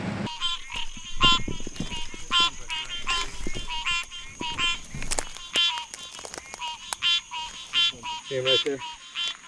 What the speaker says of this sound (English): Pretty sure with some of the rain, there's gonna be some frogs calling.